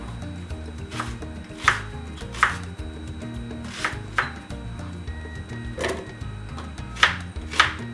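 A knife chops garlic, ginger and onion into pieces on a board, with about a dozen sharp, irregular taps close by over a steady background hum.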